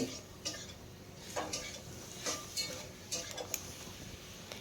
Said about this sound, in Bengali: এখন এখানে ভেজে রাখা চিচিঙ্গা আলু দিয়ে দিয়েছি, দিয়ে খুব ভালো করে মশলার সঙ্গে এইভাবে কষিয়ে নিতে হবে।